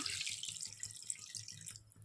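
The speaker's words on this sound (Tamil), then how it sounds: "இப்போ தேவையான அளவு தண்ணி ஊற்றிக்கலாம்" Water is poured into a pot of mutton curry after ginger-garlic paste has been sautéed, giving a steady splashing hiss with a soft, rhythmic low bubbling beneath it for about two seconds.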